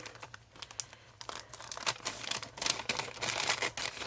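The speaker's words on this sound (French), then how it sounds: "comme l'enveloppe est assez fine, ça a tendance à déchirer" A thin paper envelope, part of a scrapbooking advent calendar, is torn open by hand in a close, steady flurry of crinkling, rustling and sharp tearing bursts, with no voices.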